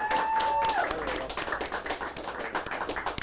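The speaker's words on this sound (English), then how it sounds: "Give me applause now." An applause sound effect plays: a brief tone sounds first, then a crowd's scattered clapping rises and carries on at moderate volume.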